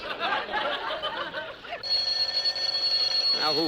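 An old-style telephone bell rings in a steady sustained tone after a burst of lively band music and laughter, with the music cutting away as the ring takes over.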